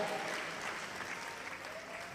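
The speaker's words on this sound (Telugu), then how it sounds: "గట్టిగా చప్పట్లు కొట్టండి" A congregation at a church gathering claps hard in sustained, dense applause that holds steady and tapers slightly toward the end, with no clear voices over it.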